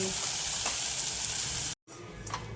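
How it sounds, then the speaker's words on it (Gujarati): Yogurt poured into sizzling okra curry in a pan, a steady close frying hiss with a brief break near the end before the sizzle resumes. "આપણે દહીં પણ ઠલવી નાખ્યું છે ભીંડાના શાકમાં"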